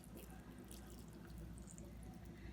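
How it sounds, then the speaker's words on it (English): Clam juice poured over Hatteras-style clam chowder in a pot, a steady, continuous trickle and splash of liquid that stays even and fairly faint throughout. "Pour that juice right over top."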